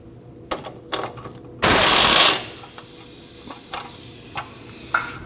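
A ratchet spins a 19mm nut off the outer tie rod of a 2003-2008 Subaru Forester, with scattered sharp metallic clicks around one loud, dense burst of rapid ratcheting near and alone.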